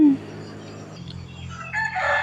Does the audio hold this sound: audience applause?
no